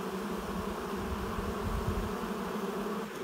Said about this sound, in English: the more agitated the bees will get